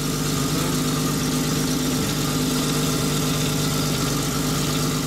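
A BMW E30 engine, after a fuel pump replacement, runs with a steady, droning hum and a low vibrating rumble throughout, close by and unchanging, with no one speaking.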